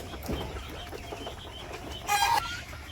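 Village chickens give a short, clear cluck or call near the end, standing out over quiet outdoor background noise.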